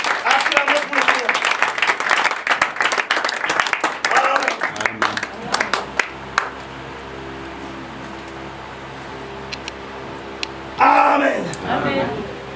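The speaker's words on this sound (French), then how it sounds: "Acclamons pour le Seigneur." A church congregation bursts into a dense round of clapping and applause for several seconds, with voices mixed in, then it fades to near quiet before a brief new burst of sound near the end.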